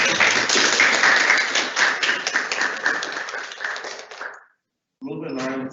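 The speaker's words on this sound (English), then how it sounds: "Can y'all give a round of applause for Raven?" An audience at a student government general session meeting claps for about four seconds, a dense, steady round of applause that thins and stops, followed by a brief stretch of silence before a voice begins.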